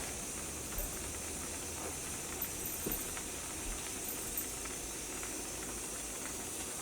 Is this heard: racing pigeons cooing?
no